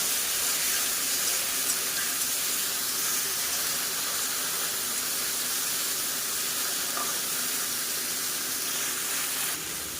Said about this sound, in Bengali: মশলার বাটিটা ধুয়ে একটু জল দিয়ে দেব।